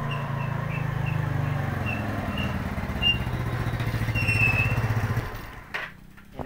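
Yamaha Mio scooter-type motorcycle with a normal CDI running steadily nearby, a low droning engine tone throughout, faint chirps above, the engine cutting off near the end.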